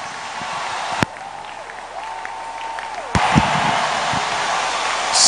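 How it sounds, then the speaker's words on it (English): A church congregation claps for Jesus during a special Holy Ghost service, a steady wash of applause with a couple of sharp bangs and a voice or organ tone over it, rising louder toward the end. "Go ahead, clap for Jesus."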